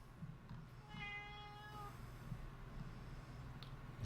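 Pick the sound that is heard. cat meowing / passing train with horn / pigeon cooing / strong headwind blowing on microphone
cat meowing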